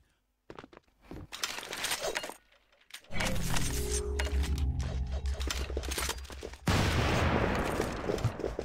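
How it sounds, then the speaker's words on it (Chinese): AK rifle fire in a first-person shooter game, bursts of rapid shots with breaking and clinking sounds, then sustained loud gunfire and chaotic crashing noise filling the rest. "我开枪了"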